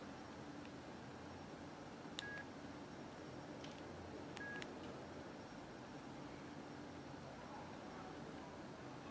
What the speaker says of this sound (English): Now enter 1, 2, 3, 4.